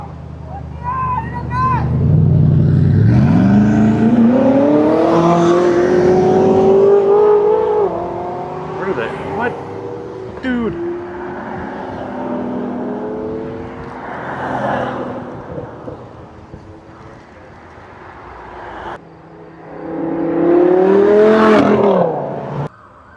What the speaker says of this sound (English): Did he just do a burnout?